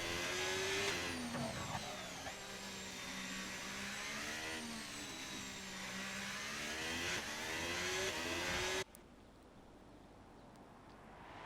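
A Ferrari Formula 1 car's engine revs loud and sustained in an F1 racing game at the Jeddah Corniche circuit during qualifying, a high whining tone rising and falling for about nine seconds, then cutting off abruptly.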